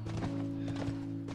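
A horse in The Last of Us whinnies while its hooves clop in steady beats, close and clear over a constant musical drone.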